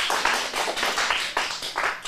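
An acting class gives a round of applause, a short burst of clapping from a small group that swells and dips across the couple of seconds.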